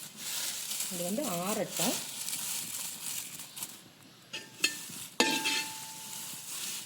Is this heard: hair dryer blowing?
no